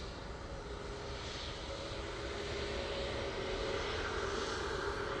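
Engines of an Emirates cargo aircraft at Manchester Airport give a steady, broad, loud roar that swells slightly toward the end, heard close up with no talk.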